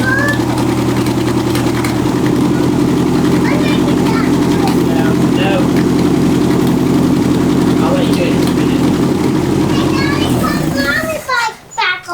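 A budget Toyota Corolla engine idles steadily while it warms up, a constant mid-pitched hum under children's voices and playing nearby, cutting off near the end.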